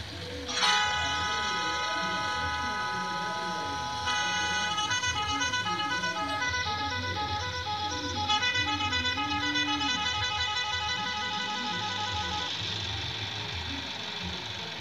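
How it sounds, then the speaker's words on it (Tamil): A sustained, multi-tone electronic bus horn in the game Bus Simulator Indonesia blares continuously with a steady, synthetic quality, its pitch pattern shifting slightly as it holds on for many seconds. "ரெண்டாவது ஹாரன் கிளிக் பண்ணி என்ன சவுண்டு கேட்குது அப்படின்றத வந்து பார்த்துடலாம்"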